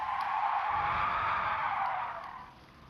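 A race car in a racing video game brakes hard into the first corner, its tires squealing in a sustained, fairly loud skid that fades as the car slows, with no talk over it.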